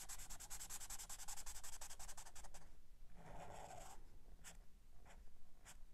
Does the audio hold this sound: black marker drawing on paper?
yes